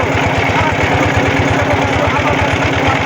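Racing boat engine during a head-to-head boat race in Bangladesh, a steady rapid low throb that pulses evenly and stays loud throughout, with broad wash noise over it and no talk.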